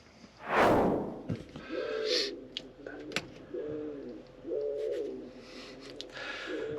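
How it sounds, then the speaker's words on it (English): Pigeons cooing on a roof above a camper van in repeated soft, throaty phrases, fairly close, with a brief flutter or rustle early on and light background noise. "I've had pigeons running up and down the roof, cooing and jumping up and down"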